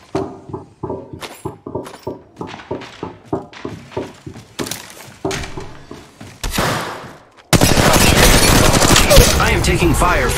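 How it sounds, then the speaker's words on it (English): Gunfire in the mobile battle royale game Apex Legends Mobile: a run of rapid, evenly spaced shots, then a louder, dense burst of close firing and impacts near the end. "Taking fire, friends."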